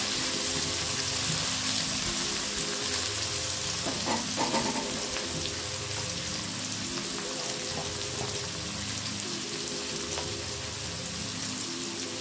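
Chopped onions and a little ginger fry in a pan for a prawn curry, a steady soft sizzle with occasional stirring scrapes, continuous and moderately quiet while someone speaks at times.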